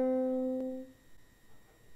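A single sustained French horn note from the Siegfried hero call rings out loud and clear, then fades away within a second, leaving quiet room noise.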